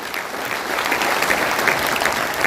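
An audience at a Dr. B.R. Ambedkar birth anniversary celebration claps in a dense, sustained burst of applause that stays loud and even throughout.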